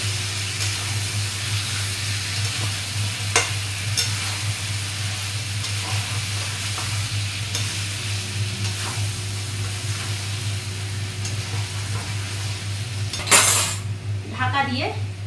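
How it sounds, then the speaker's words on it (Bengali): Chicken pieces are stir-fried with a spice masala in a pan for a kosha-style curry, a constant low sizzle under scattered metallic clinks and scrapes of the utensil, with a brief louder clatter near the end. "এই মশলাটা দিয়ে ভালো করে এবার কিছু সময় ধরে কষিয়ে নেবো"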